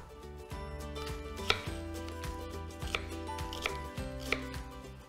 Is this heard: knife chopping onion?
yes